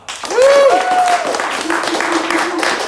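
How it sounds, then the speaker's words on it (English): Comedy roast audience clapping and cheering for comedian Tom, a loud burst of applause with whoops and shouts from a crowd, lasting the whole short moment. "Only clap for who you thought really won."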